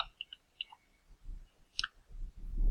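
A few quick, sharp computer mouse clicks, close and fairly quiet, heard while clicking through a Moodle gradebook screen, followed by soft low rumbling handling noise.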